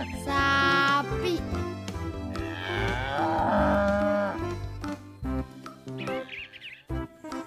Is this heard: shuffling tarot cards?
no